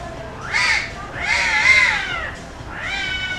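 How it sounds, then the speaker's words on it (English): An unhappy cat meows loudly and insistently outdoors at a Boracay beach area, three drawn-out wailing cries in a row, close and clear. "And there's a cat somewhere not happy."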